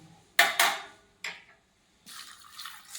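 After a few light clinks of kitchen vessels, water is poured over rinsed rice and lentils set to soak, a soft splashing pour heard up close with no voices.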